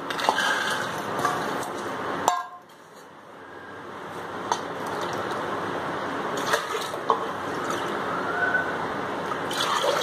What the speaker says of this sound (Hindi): दो कप पानी डाल दिया है